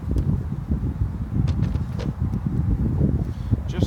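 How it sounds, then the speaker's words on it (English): Gusty wind buffeting the microphone at a beehive yard, a continuous low rumble with faint rustling, no voices. "Just started getting a little windy"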